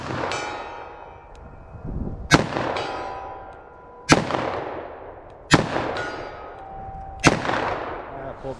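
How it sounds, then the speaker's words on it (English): Smith & Wesson 686 revolver firing Aguila rounds in double action: five loud sharp shots spaced about one and a half to two seconds apart, each followed by a long ringing decay, outdoors, no talking. "Let me fire a few more."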